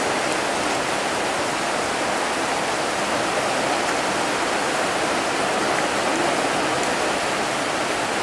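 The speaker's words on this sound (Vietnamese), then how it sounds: "Mưa hoài, mưa không ngớt." Steady heavy rain pours down in a dense, even hiss with no break or change, loud and close with no voices, during a wet spell in Vietnam's Mekong Delta region.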